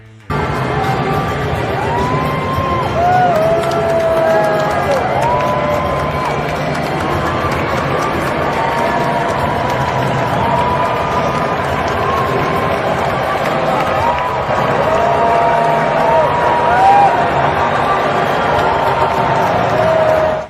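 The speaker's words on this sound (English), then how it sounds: "The president was given his usual rock star reception by the crowd of spectators" A large crowd of spectators at the US Open men's final tennis match in New York City gives a steady roar of cheering and whistles, loud and continuous throughout, with scattered shouts rising above the din.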